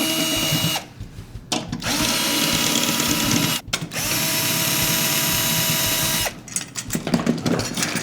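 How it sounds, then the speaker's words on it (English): A power drill fitted with an Evans drill bit key spins out tension rods to remove a snare drum's bottom head, running in several steady whirring bursts separated by short pauses, close and clear. "We're going to use the Evans drill bit key"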